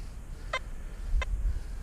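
Two short, bright pinpoint beeps from a metal detector held over a horseshoe, spaced about two-thirds of a second apart, each clear and brief over low outdoor rumble.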